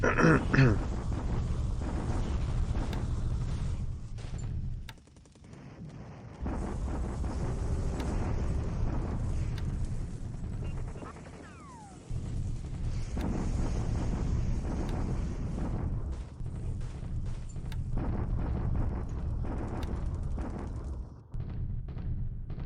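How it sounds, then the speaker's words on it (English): A submarine going down in the naval strategy game War in the Pacific: a low, rumbling, rushing roar like wind and churning water, swelling and cutting out in long waves, with faint creaking and groaning tones over it. "I think that's a sub sinking."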